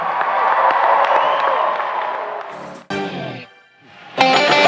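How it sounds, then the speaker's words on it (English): Arena crowd at a men's college volleyball match applauds and cheers an honor guard singing group, a loud roar of clapping and voices that fades after a couple of seconds before abrupt bursts of other sound cut in. "Give them a nice round of applause."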